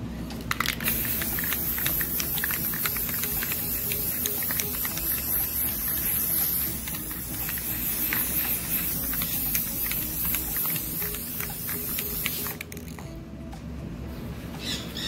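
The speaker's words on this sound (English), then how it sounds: "we're going to proceed to start spray painting it in the Rustoleam metallic finish gold spray paint." Rust-Oleum metallic gold spray paint hisses from an aerosol can onto a Dollar Tree vase outdoors, a long continuous spray with short breaks, while birds chirp busily in the background.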